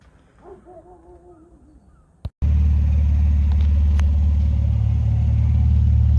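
An Alfa Romeo 147 GTA with a Busso V6 and Selespeed gearbox starts off on a test drive, a loud, steady, close-up engine drone that kicks in abruptly after a quiet moment and a sharp knock.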